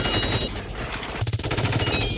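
Heavy gunfire from a big gun in a Tamil comedy film, a dense continuous burst of loud rapid shots with a rattling machine-gun rhythm filling the whole moment.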